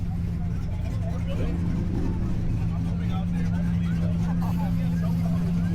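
A McLaren pulls away at a late-night car meet, a steady low engine rumble droning throughout while people talk nearby.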